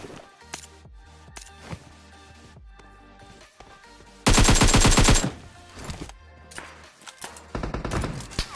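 Rifle fire in a battle royale video game, an SKS shooting from a nearby building: scattered single shots early, then a loud rapid burst in the middle, followed by more rapid fire near the end.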